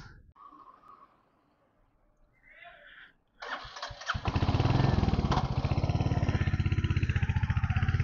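Motorcycle engine starts after quiet handling noises and a brief voice, then runs loud and close with steady rumble and broadband wind roar as the bike rides off.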